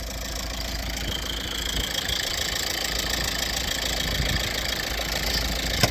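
A VW MK5 Jetta TDI diesel idles roughly nearby, a steady mid-pitched engine drone with uneven knocking pulses running through it.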